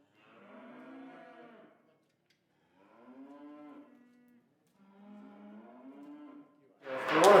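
Cattle in a handling area moo three times in long, low calls with pauses between them, fairly close, followed by a brief burst of noise at the end.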